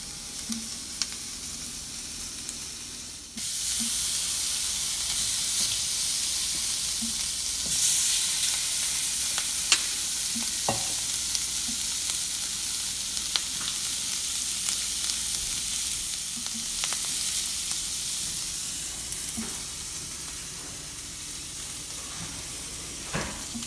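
Shrimp blacken in a hot pan, a continuous crackling hiss with occasional pops and brief louder bursts.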